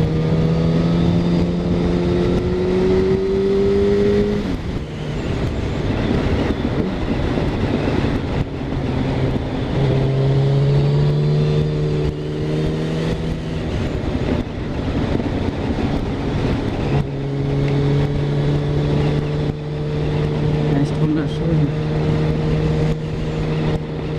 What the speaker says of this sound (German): Der Wind streift so am Helm vorbei. Man hört den Motor surren und die Kette zischen.